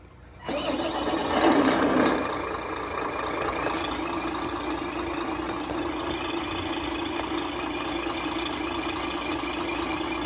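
An electronic sound module in a radio-controlled Ford F450 truck plays an engine start-up: a brief cranking surge, then a steady, even idle that holds at moderate loudness with no talking.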